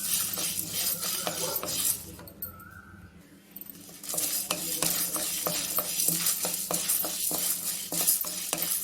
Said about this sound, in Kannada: ಈ ಥರ ವಾಸನೆ ಬರೋವರೆಗೂ ಚೆನ್ನಾಗಿ ಫ್ರೈ ಮಾಡ್ಕೊಳ್ಬೇಕು.